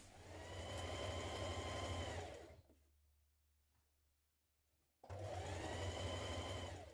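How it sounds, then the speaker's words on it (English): Sewing machine stitching the bottom seam of a Simplicity 9240 sweatshirt, a loud steady whir in two bursts separated by a quiet pause of about two and a half seconds. "Now we're going to stitch that bottom seam."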